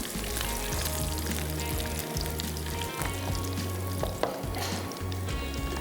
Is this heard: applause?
no